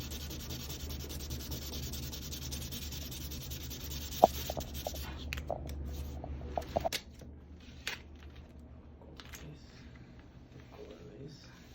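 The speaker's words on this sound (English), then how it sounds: "sanding it down, and he's using 150 grit paper." 150-grit sandpaper rasps in steady back-and-forth strokes against a steel door, then grows lighter, broken by a few small knocks.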